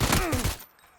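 Gunfire in the video game PUBG: a quick loud burst of several shots fired rapidly in the first half-second, then a short fading tail into near silence.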